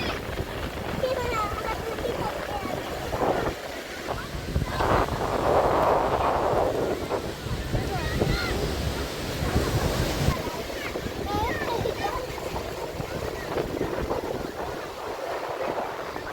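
Sea waves wash and break on the beach at Digha, with gusts of wind buffeting the microphone, a steady surf roar rising and falling.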